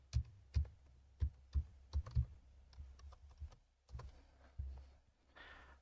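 Password typed on a computer keyboard: a quick run of soft, dull key clicks, then a few more spaced taps, close and quiet against a low hum, with no speech.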